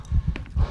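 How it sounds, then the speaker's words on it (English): Footsteps from the horror video game Call of Cthulhu: Dark Corners of the Earth, a few heavy, muffled thuds in an uneven walking rhythm, close and moderately loud. "Steps."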